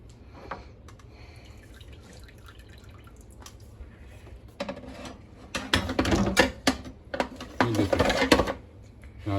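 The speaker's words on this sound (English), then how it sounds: "gonna let that drip for just a moment" Turkey bone broth dripping from a strainer during home canning, with soft irregular drips and clinks of kitchen equipment that grow busier toward the end, under a quiet voice.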